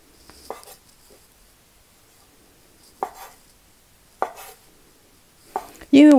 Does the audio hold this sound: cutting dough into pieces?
yes